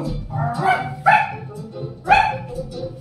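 A voice imitates a dog barking, giving three short, loud yelping bursts roughly a second apart.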